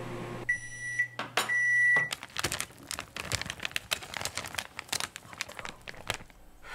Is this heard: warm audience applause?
no